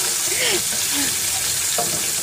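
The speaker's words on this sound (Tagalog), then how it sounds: "lalagyan muna natin ng kaunting oil ang ating kawali at igigisa natin sa bawang" Garlic sautéing in oil in a wok-style pan, a steady sizzling hiss that runs through the whole moment, with a few soft faucet-like water sounds and brief voice-like tones over it.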